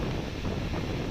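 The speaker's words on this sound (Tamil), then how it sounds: "லைட்டாக சில்லுன்னு காற்றடிக்க ஆரம்பிச்சிருச்சு." Cool wind rushing past a moving train in the Western Ghats, heard as a steady, close broadband whoosh of air buffeting the microphone with a low rumble underneath, continuous and without talk.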